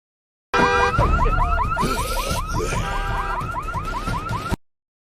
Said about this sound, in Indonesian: alarm berbunyi dan bunyi itu membuat para zombie berdatangan